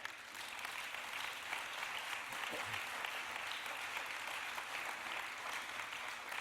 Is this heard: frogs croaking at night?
no